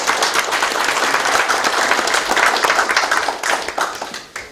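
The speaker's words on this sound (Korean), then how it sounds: "다시 한번 감사를 드리고 박수를 한번 보내드리겠습니다" An audience at a mayor's town-hall meeting with citizens in Korea applauds steadily, a dense, loud wash of clapping that holds throughout and tapers slightly near the end.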